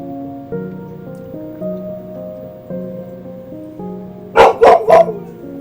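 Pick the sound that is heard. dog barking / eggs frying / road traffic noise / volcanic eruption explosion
dog barking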